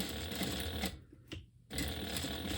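A sewing machine stitches around a rectangle of fabric for a sling bag, running in a fast, steady whir, stopping briefly and starting again, then carrying on close and clear.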